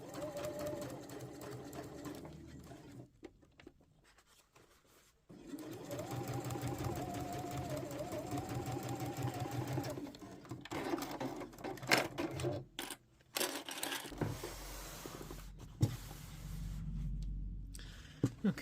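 A sewing machine stitches the draw cord section of a slippery-fabric beach bag in long steady runs of rapid mechanical chatter, pausing and restarting a few times, close and fairly quiet, with fabric handling and small knocks between runs.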